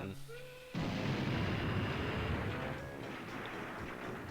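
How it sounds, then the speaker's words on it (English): A Banjo-Kazooie explosion erupts suddenly as a loud, broad boom after a short stretch of quieter game sounds, then rumbles and hisses on for several seconds. "That explosion was like way louder than anything I'm listening to on stream"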